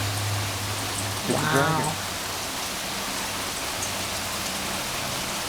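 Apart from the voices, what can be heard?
hail falling during a hail storm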